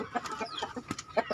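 Chickens cluck on a small backyard farm where young hens and roosters are being raised, with short, irregular clucks and calls repeating at close range over a busy mix of bird sounds, no talking.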